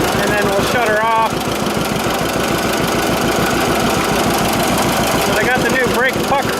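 A 1946 John Deere AR tractor engine idles steadily and loudly throughout, its rhythmic low chugging firing pulses continuous and close, with a voice speaking over it.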